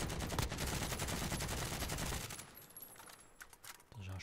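Gunfire in the battle-royale game Warzone, a dense, continuous stream of rapid shots for a couple of seconds, then fading to a quieter stretch before a few more bursts.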